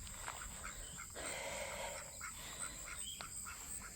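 Ducks on a farm give a few faint, scattered calls, quiet and some distance off, over a soft steady background hiss.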